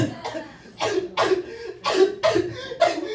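A stand-up comedian at a bar fakes a cough, voicing five or six sharp, exaggerated cough bursts in a rhythmic series, close and loud; the coughs are vocal imitations rather than genuine.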